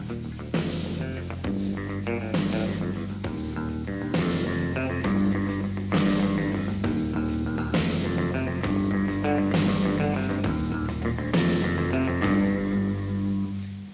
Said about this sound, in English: I'll just play along with drums, bass, synthesizer, and bass guitar